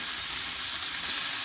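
Filipino tocino, sweet cured pork cut in thick bacon-like pieces, sizzles steadily in a pan with a close, even frying hiss.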